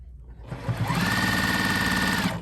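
A Juki TL sewing machine runs in one steady, smooth, loud burst of rapid, even stitching close by, lasting about two seconds before stopping.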